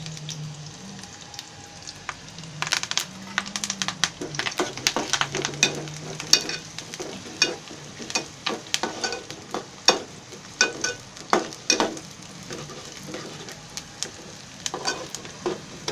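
Chopped onion and curry leaves frying in a pan for a Marathi prawn curry, a steady close sizzle broken by repeated crisp stirring scrapes and clicks, with no talking.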